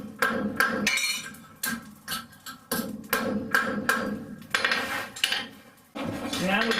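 A small peanut hammer strikes hot metal while forging a tulip hook, giving sharp, irregular ringing taps in quick clusters with short pauses, close and fairly loud.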